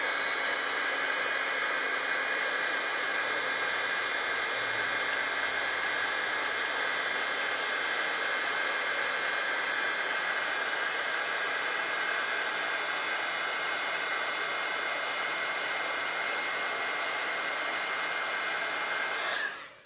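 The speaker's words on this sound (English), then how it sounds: "So I'm just going to use my heat tool with this and heat this up." A heat tool blows hot air onto embossing powder on foil for card making, a steady, even whooshing hiss that runs unbroken for about twenty seconds, close up, before cutting off.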